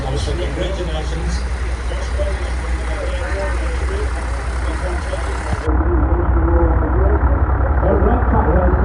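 International trucks at a Wheels at Wanaka display driving out of the arena, heavy engines idling and rumbling steadily while a commentator talks over a loudspeaker.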